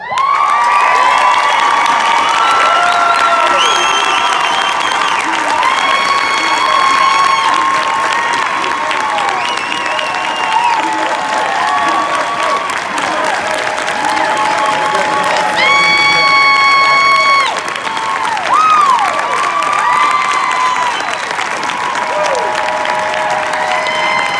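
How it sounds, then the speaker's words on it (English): Audience applause and cheering for a group of military members on stage, a loud, steady wash of clapping with whoops and shouts running the whole stretch, while bright tonal voices and music-like tones ride over the top. "Can we give them a round of applause?"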